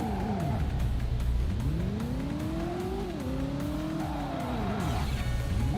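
A car in the Driver video game brakes hard during a brake test, its engine whining through rising and falling pitch sweeps as the tires squeal, loud and continuous with no talking.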